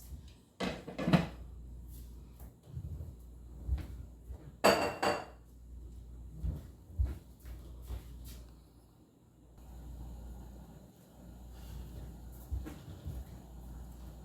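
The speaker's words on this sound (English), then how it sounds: "So now I'm going to cover it and let it cook for 5 to 10 minutes." A metal lid is set onto a pot of egusi soup on the stove, giving a few sharp clinks and clanks with quieter kitchen rattles in between, close and fairly soft, no talking.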